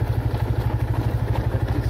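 A motorcycle rides over a rough, unpaved dirt road, its engine thrumming in a fast steady pulse with clattering and thumping from the bumpy surface, loud and close throughout.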